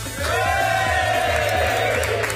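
A studio crowd cheers and whoops loudly and continuously, a dense wall of voices holding steady from start to finish, with a few shouts rising above it.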